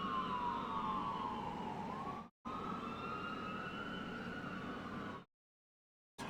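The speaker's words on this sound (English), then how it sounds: "apparently the sirens are starting early on a Tuesday night?" Emergency vehicle sirens wail outside on a night street, heard through open windows: long, sweeping rising and falling tones, steady and moderately distant, broken by two short silent gaps.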